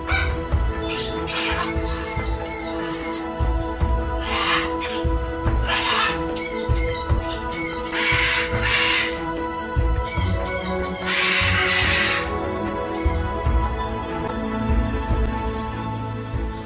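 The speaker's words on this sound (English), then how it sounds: "a flock of macaws, shrieking and displaying their beautiful colors in the evening sun" Loud, harsh macaw shrieks repeat in overlapping bursts throughout, a flock calling close by in Costa Rica over a constant buzzing background.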